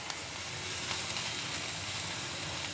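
Capsicum and onion sizzle and crackle in hot oil as they are stir-fried for Gobi Manchurian, a steady close frying hiss with occasional soft pops and stirring scrapes, no talking.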